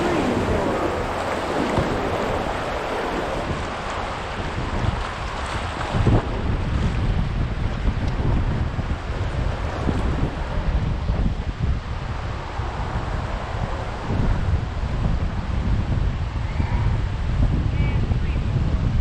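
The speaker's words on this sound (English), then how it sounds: "All that wind wants to fight us." Strong wind buffets the microphone during a river rafting trip in the Smokies, a loud, continuous rushing roar with water noise underneath, steady throughout with no clear speech.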